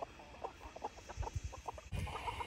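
Short, soft clucks from a chicken repeat irregularly over a low rustling background, with a brief burst of noise near the end.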